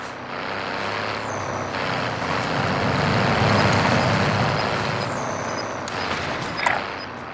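A vehicle drives in the Call of Duty: Modern Warfare video game, giving a loud, continuous engine rumble and road roar that swells and eases, with a brief clunk near the end.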